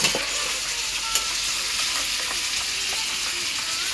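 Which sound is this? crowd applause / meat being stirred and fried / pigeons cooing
meat being stirred and fried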